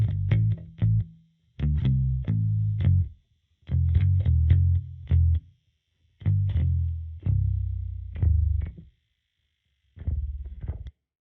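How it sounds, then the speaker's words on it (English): Tape stop effect applied to an audio clip in Tracktion Waveform, repeated bursts of low, distorted sound that sag and cut off abruptly, separated by short silences, loud and close. "it gives you that tape being slowed down and stopped effect"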